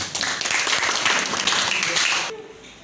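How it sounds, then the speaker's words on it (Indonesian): An audience at a student presentation of a sound-activated switch applauds in a dense, steady burst of many hands clapping, which then cuts off sharply into near quiet. "Tepuk tangan"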